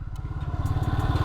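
A 1985 Honda FT 500 Ascot single-cylinder motorcycle pulls away, its low, steady thumping engine pulse running close and fairly loud for a brief moment with no voices over it.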